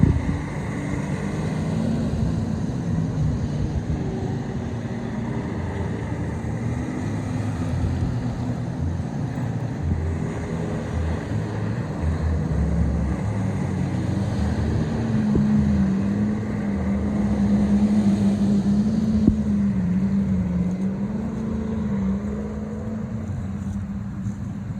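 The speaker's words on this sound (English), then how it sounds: "Oh, that's not an airboat. Just a jet ski." A jet ski engine drones steadily as it passes on the Kissimmee River, a loud, continuous low hum that swells slightly toward the end, with wind buffeting the microphone and no talking.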